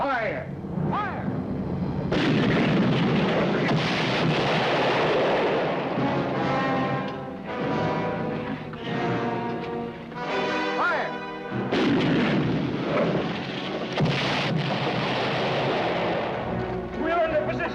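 Repeated cannon artillery volleys in a Civil War-era western battle scene, loud booming blasts in irregular succession with shouted commands and voices over the gunfire throughout.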